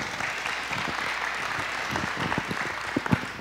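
Congregation clapping during a church service, a dense steady patter of hand claps with a few sharper, louder claps standing out near the end, filling the room without any voices.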